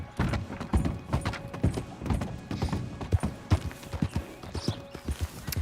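Heavy draft horse hooves clip-clop in a steady, uneven stream of close, loud thuds in a Red Dead Redemption 2 game world, with faint creaks of tack or gear underneath.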